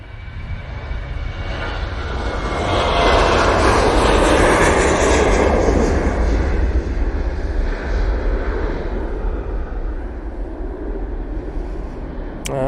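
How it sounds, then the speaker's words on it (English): A Boeing 737 jet airliner bound for Malaga at Manchester Airport: a loud, broad engine roar swells over the first few seconds, then holds steady and close, with no talking. "We're going to ignore this 737 going to Malaga"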